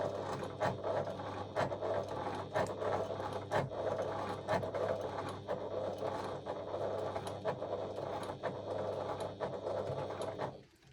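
A sewing machine runs steadily while stitching a back stitch at the start of a seam on a treasure pouch, giving a continuous close mechanical whirr with rhythmic ticking that stops abruptly at the end.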